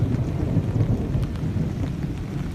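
Heavy thunder rumbles steadily beneath rain during a flood storm on a street in Scott Township, a loud, continuous low roar filling the whole stretch with no talking.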